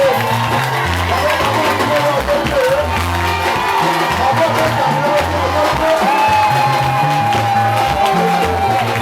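A church congregation cheers and acclaims at a seminar gathering. Shouts and whoops from the crowd mix with steady rhythmic music and amplified voices throughout.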